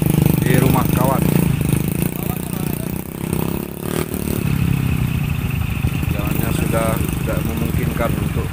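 A motorcycle engine is started and settles into an uneven clattering idle outdoors, with rough revving bursts and people talking over it.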